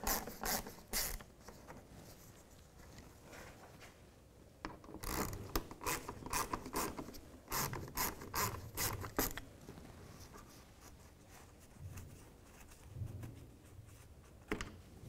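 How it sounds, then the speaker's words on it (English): T20 bolts being backed out of the splash shield of a 2001-2007 Volvo V70 near the radiator support: faint, close ratcheting and rubbing clicks in uneven bursts, busiest in the middle, with no talking. "So we're gonna take these bolts out."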